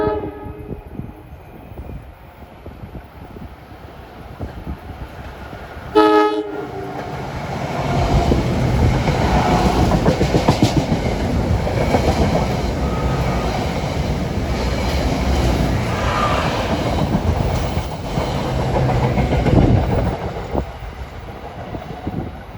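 An Arrow MU electric multiple-unit train rushes past at a station in Rahway, with a short horn blast, then a loud sustained roar and rattling wheels on rails that stays close and heavy for many seconds.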